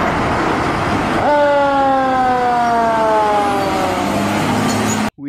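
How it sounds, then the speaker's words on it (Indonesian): A toy fire truck siren wails alone, starting abruptly and holding a steady, loud, slowly falling electronic tone for several seconds before cutting off. "Wow, di sana ada mobil truk pemadam kebakaran."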